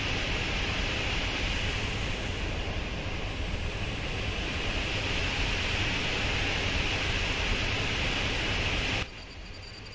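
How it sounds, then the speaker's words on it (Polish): Train brakes in the railway simulator game SimRail make a steady broadband hiss and rush, loud and continuous for about nine seconds before dropping off, with no voices over it. "Słychać dźwięk hamulców."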